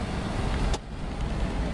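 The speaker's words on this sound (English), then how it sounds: "now we're at 60, and the wind noise is ridiculous" Inside a 1989 Alfa Romeo Spider Veloce cruising at 60, a loud steady rush of wind noise and road roar fills the cabin, close and continuous with a brief hiss spike, no talk.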